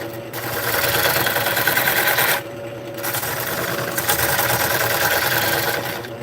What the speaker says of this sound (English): cutting uphill with a gouge